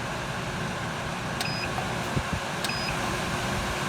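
A Wen 3410 shop air filter runs with a steady, even whoosh of fan noise. Two short beeps from its control panel sound partway through, and a couple of faint clicks are heard close by.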